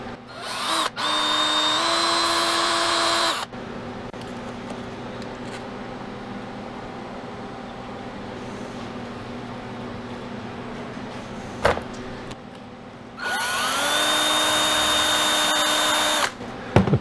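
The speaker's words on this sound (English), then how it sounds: "So that was very easy to drill into." A power drill whirs loudly in two bursts, spinning up and winding down as it bores into frozen crushed pineapple, separated by a quiet stretch of faint background hum.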